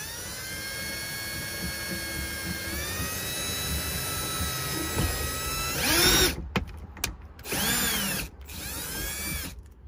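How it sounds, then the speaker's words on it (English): A power drill whines steadily as it bores through a plastic Molle panel and touches the metal body of an Outbound Nevada behind it, close and loud, with several short bursts and stops toward the end. "We hit the metal ever so slightly, so we know where to drill once we take this plastic panel off again."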